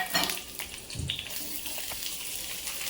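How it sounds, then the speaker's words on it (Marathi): Chopped onion dropped into hot oil in a small kadhai, a steady, close, watery sizzle with a brief louder crackle at the start and soft clinks, no talking. "आता या छोट्या कढईमध्ये तेल मी तापत ठेवलं आहे आणि त्यासोबत मग त्याच्यामध्ये कांदा टाकते परतवण्यासाठी"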